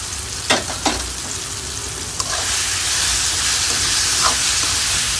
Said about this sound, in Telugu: అన్నపగింజలు కూడా బాగా మంచిగా ఈ విధంగా పోపులో మంచిగా కొంచెంసేపు వేగనేయాలి.